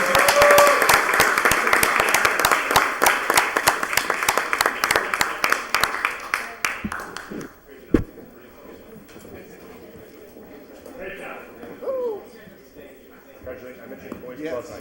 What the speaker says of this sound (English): And let's hear it for applause right here.